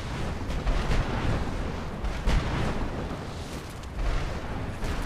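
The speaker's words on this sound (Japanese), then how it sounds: "なんかすごい爆発音がするんだけど" Loud, rumbling explosions in the video game Skyrim, a dense barrage of booms and blasts that continues throughout with no clear pauses.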